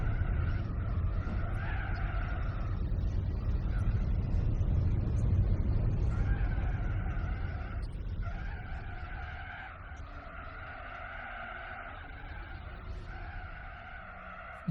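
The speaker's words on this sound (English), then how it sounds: "Yes, the classic Gran Turismo tire screech." Tire screeching from the racing video game Gran Turismo 4, a long continuous squeal with engine rumble underneath, loud at first and easing slightly toward the end, with no talk.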